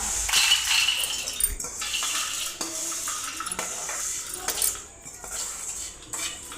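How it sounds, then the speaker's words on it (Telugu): A utensil scrapes and clinks against a pan and bowl as fried sabudana and poha chivda are moved into a serving bowl, with irregular close metallic taps and scrapes and no talk. "స్టవ్ కట్టేసి ఇప్పుడు బౌల్లోకి తీసుకోవాలి"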